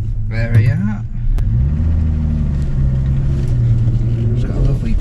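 A Rover P4's engine rumbles low and steady as the car manoeuvres in reverse on under-inflated tyres, heard close from inside, with people talking over it.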